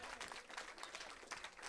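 An audience gives a faint, distant round of applause for someone who lent a sound system, a thin patter of clapping heard from far off.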